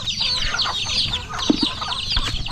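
Free-range chickens cluck steadily while being fed yellow corn in a rural yard, close and busy, with overlapping soft clucks and a couple of brief sharper calls.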